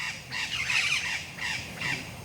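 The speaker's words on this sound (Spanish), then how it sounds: "aquí hay pajaritos, mire" Birds call outdoors in a leafy spot, giving repeated harsh, squawking cries at moderate distance in several separate bursts over steady background ambience.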